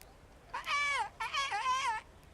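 A Kingdom Come: Deliverance character imitates a bird's song with his voice, singing two warbling, whistly phrases that slide up and down, close and clear with a short pause between them.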